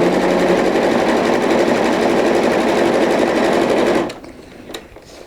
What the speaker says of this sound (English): So we're going to come over here to the sewing machine